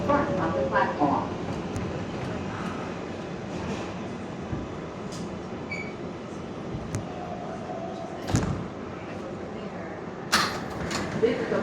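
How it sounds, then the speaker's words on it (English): New York City subway R142A 4 train running toward Bowling Green, a steady rumbling roar of wheels on track with occasional sharp clanks and squeals. "This is a Bowling Green bound 4 train."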